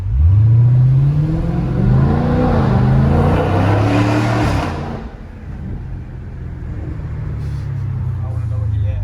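A Dodge Challenger 1320 with a Corsa exhaust system revs loudly at close range, its deep engine tone rising and falling before dropping into a steady rumble, with voices talking over it.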